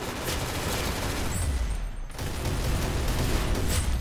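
Gunfire in the Roblox shooting game Arsenal, a sustained dense volley of shots that holds steadily for a few seconds, dipping briefly midway, with no voices over it.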